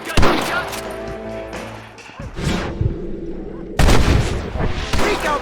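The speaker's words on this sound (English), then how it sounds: "Open fire!" Gunfire cracks out in Red Dead Redemption, close and loud sharp shots in bursts at the start and again near the four-second mark, with shouted voices mixed into the shootout.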